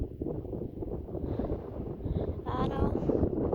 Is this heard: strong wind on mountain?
yes